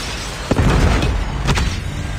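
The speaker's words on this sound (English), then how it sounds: "Predator missile inbound." A predator missile explosion booms in a Call of Duty Mobile multiplayer match, with two deep, rumbling blasts about a second apart over steady game background noise.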